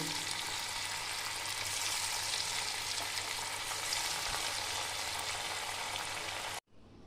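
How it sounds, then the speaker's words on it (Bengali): Potato bites deep frying in hot oil give a dense, steady crackling sizzle that stays loud and even throughout, then stops abruptly just before the end. "এবার আমি এগুলো আস্তে করে ছেড়ে দিচ্ছি এগুলো আমি ডিপ ফ্রাই করে নেব"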